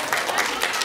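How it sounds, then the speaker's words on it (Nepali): Hearty applause from the audience at a Nepali dohori folk song duel, a brief dense burst of clapping close and fairly loud, with no voice on top. "छ जोडदार ताली"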